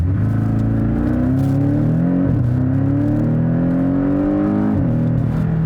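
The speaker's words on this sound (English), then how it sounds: "Now I'll floor it here from a stop without using the launch control." A 2018 Porsche 718 Cayman GTS floored from a standstill without launch control: the engine climbs in pitch, drops sharply at each of two gear changes, then climbs again. The drone is loud, close and continuous, with no talking.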